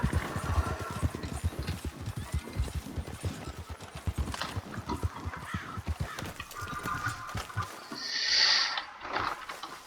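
In a video game, a horse's hooves clip-clop in a quick, steady rhythm, and a high whinny rises near the end.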